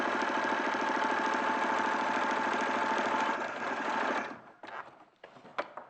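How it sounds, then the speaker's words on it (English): Sewing machine running a straight stitch, a fast close mechanical whirr with steady rhythmic clatter for about four seconds, then stopping and followed by a few small clicks and handling noises. "Right, so I'm just sewing straight across."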